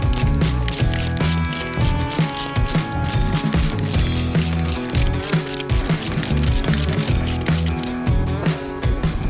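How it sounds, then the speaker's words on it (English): A ratchet wrench clicks in rapid, uneven bursts while loosening a collar nut on a diesel pre-chamber, loud and close, with brief pauses between strokes. "finally now I can start ratcheting out"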